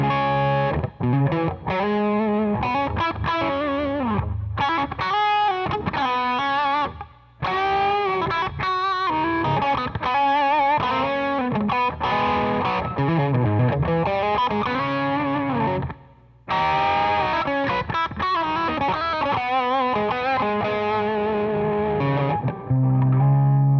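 Electric guitar played through a Digitech RP-80 multi-effects pedal on its Rhythm Crunch distortion preset, loud crunchy chords and riffs with chorus-like shimmer, playing steadily with a few brief pauses.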